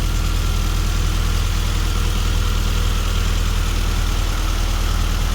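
Mini Cooper 1.3i SPI with freshly adjusted tappets idles close by, a loud, even engine drone with a steady pulsing low throb and no change in pitch, no voices over it.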